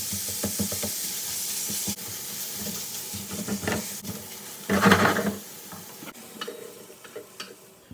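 Food being stirred and scraped around a hot skillet while making arancini, with repeated clattering scrapes and a bright sizzle, loudest in one burst near the middle and close to the mic, with no talk.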